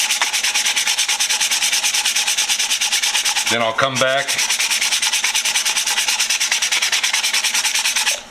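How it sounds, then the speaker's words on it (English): Steady, rhythmic scratching of 180-grit sandpaper rubbed back and forth by hand, close and continuous, briefly interrupted once by a short spoken phrase. "I'm gonna do most of the sanding with the 180."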